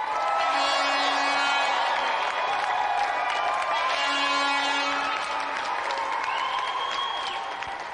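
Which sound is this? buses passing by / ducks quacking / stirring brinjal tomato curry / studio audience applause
studio audience applause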